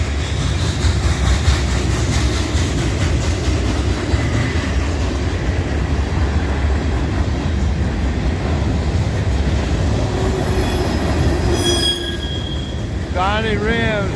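Freight train of loaded cement hoppers and bulkhead flatcars rolling past close by, a loud continuous rumble of wheels and clatter with squealing near the end and a voice speaking over it.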